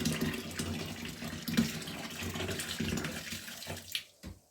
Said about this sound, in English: Top it up with a bit more warm water.